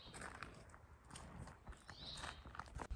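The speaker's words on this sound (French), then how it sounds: "Vous avez des bâtiments vides avec des chevaux dedans." Horses stand inside empty buildings, their hooves clip-clopping faintly on the floor in irregular steps, with soft shuffling and quiet movement in a reverberant space.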